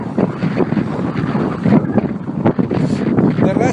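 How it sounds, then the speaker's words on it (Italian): Strong, gusting wind buffets the microphone outdoors on a road journey from Barcelona to Lisbon near Ciudad Real, a loud continuous broadband roar with surges throughout. "vento non vuol saperne di calare, anzi sembra rinforzi."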